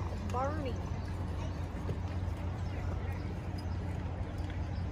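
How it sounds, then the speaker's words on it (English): Steady hoof clops of heavy Belgian draft horses walking as a team of about 5,000 pounds under a constant low rumble of crowd noise at a horse pull event, with a voice speaking over it. "Beautiful team of Belgian horses"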